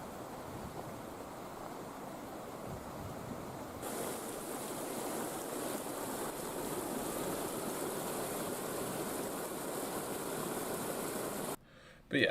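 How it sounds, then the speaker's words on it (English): Flash flood water at Big Bug Creek rushes in a continuous, dense roar that swells slightly partway through and holds steady, with no voices. "that's kind of the Big Bug Creek flash flood intercept experience for you"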